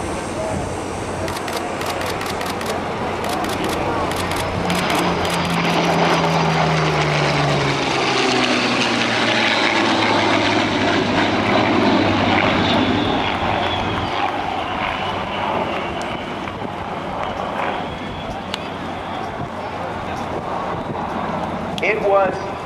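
A Yak-9 fighter fitted with an Allison engine at the 2012 NAS Oceana airshow drones past, a loud propeller engine rising and fading in pitch as it flies by, with someone talking over it.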